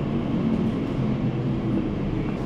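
Train at Paddington Station in London, heard as a low, steady rumble with a continuous mechanical hum throughout and no voices.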